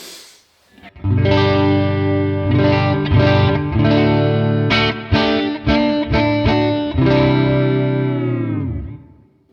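Electric guitar with Fralin Vintage Hot neck pickup, drenched in effects with reverb from a Specular Tempest: sustained distorted chords and a few quick picked notes, ringing out and fading at the end.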